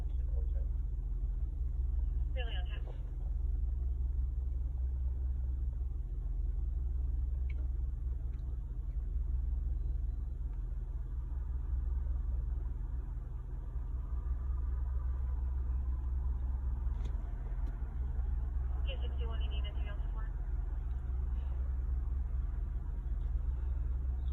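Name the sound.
passing road traffic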